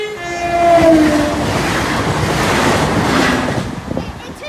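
A train rumbles past steadily while its horn blows a brief, loud note at the start, then the roar of the cars continues and slowly fades.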